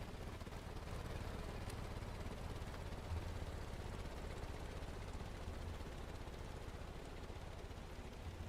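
A helicopter engine in the video game Stormworks drones steadily in a loud, continuous rumble with a deep low-end throb, unbroken and without voices.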